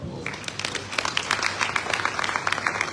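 Audience at a Lagos indigenous people's summit applauding, a dense steady patter of many hands clapping at moderate distance for about three seconds.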